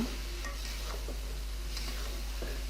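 Cleaned mutton heads are stirred into fried spice masala in a pan, giving a steady soft sizzle with a few scraping stirs, close and fairly quiet, with no voices.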